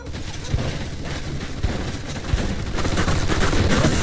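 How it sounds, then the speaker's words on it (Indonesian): Machine gun fire in the video game Mafia II crackles as a dense, continuous fusillade, with a few heavier thumps standing out against a loud, noisy battle background. "Sepertinya kita menemukan senapan mesinnya"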